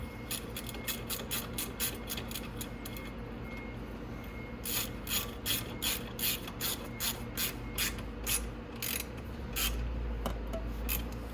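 A ratchet tightening 10mm bolts on the front bumper of a Venom 125cc Grizzly ATV, bursts of rapid clicking strokes in a quick regular rhythm, close and clear, with a short pause between runs.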